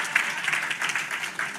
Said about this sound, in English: Can we just take a moment and clap it up for Warren and Brittany